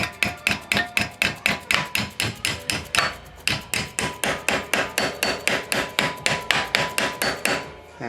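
A mallet taps a metal ring round in a quick, even series of about two dozen sharp metallic knocks, each ringing briefly before the next, with a short pause partway through; close and clear, no talking.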